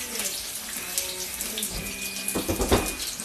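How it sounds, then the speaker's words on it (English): Hands are washed under a running kitchen tap, with a steady close splash of water in a sink throughout. "Wash my hands."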